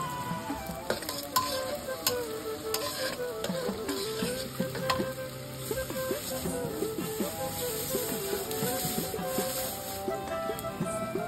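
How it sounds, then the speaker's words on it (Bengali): Spices fry and are stirred in a pan over a village-style clay stove for biryani: a continuous close sizzle with scraping and clinking from the stirring, and faint voices in the background. "এটা হালকা ভাজবো, এটা কড়া ভাজবো না।"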